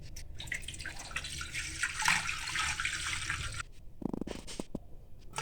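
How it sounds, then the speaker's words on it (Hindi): Water splashes and rushes steadily into a cooking pot being readied for steaming chicken, a broad continuous pour that stops abruptly, followed by a few sharp drips and light clinks close by. "इसमें हम पानी शामिल करेंगे।"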